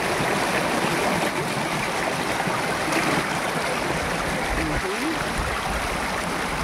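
Cold water flowing and splashing at mountain pools, a steady broadband rush filling the scene from start to finish, with a brief faint voice near the end.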